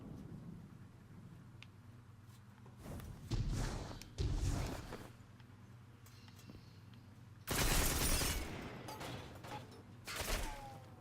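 Weapon fire in Destiny 2, played as a Titan, comes in several separate loud bursts. Each burst cracks and rolls over a low, quiet ambient bed, with the heaviest, longest volley about two-thirds of the way through.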